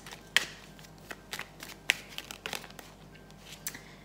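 Tarot cards are shuffled and drawn by hand, giving soft crisp riffles and a few sharper snaps, close and quiet.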